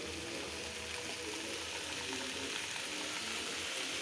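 Vegetables hit a hot pan of oil and fry with a steady, close, continuous sizzle and crackle while a Bangladeshi-style puti fish curry with mixed vegetables is being cooked.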